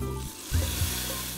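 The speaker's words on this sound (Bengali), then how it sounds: "বাগার দেওয়ার মধ্যে একটা আলাদা মজা আছে।" A brief burst of close sizzling comes from spice tempering poured over drumstick masoor dal, with a couple of sharper crackles in the middle. No one speaks.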